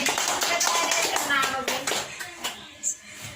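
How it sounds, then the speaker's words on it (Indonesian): A class of children clapping their hands for a classmate during a lesson, a short burst of quick claps that thins out and fades, with children's voices mixed in. "Tepuk tangan untuk adik siapa?"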